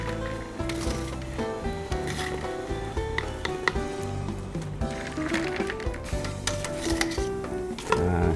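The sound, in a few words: stirring boiled stingray fish in ice water in a pot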